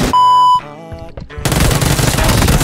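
Gunfire in the battle-royale game PUBG: a steady electronic tone breaks off into scattered sharp reports, then a dense, loud burst of rapid shots runs to the end.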